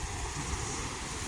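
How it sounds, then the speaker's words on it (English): Jet ski boat approaching on the water at Waitara during a fishing outing, a steady engine drone with wind and surf noise throughout, moderately near and loud. "Here comes a jet ski boat coming in."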